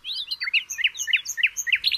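Small birds chirp in quick repeated high tweets, a lively steady run of calls sitting close with no talk.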